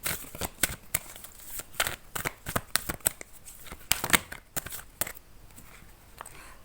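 Tarot cards being shuffled up close, a quick run of soft riffling flicks and slaps in irregular bursts, fairly quiet with no talk.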